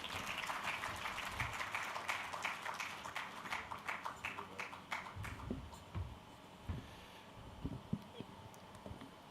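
Audience applause at the closing ceremony of the 2025 Data Protection Africa Summit, a dense, steady wash of many hands clapping that gradually thins out, fairly distant and moderately quiet.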